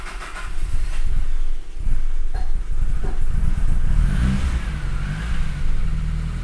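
A Nissan Skyline engine, a DR30 or HR31 GTS-R fitted with a Mazda chain tensioner, cranks and starts, giving a second or two of light timing-chain rattle before settling to a loud, steady, close idle.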